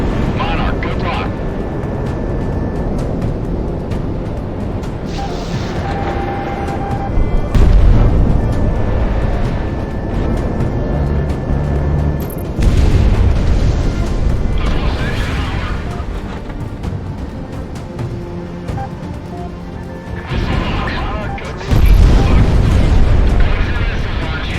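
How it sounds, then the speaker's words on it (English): Missiles explode repeatedly around a jet in Project Wingman, with heavy booms and blasts recurring over a constant roar of aircraft engines and aerial combat; the bursts are loud and layered, with no clear speech. "So many missiles."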